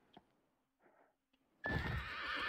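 In the Ghost of Tsushima video game, a horse gives a few faint soft snorts and hoof sounds, then a sudden loud, close whinny that trails into a sustained neigh.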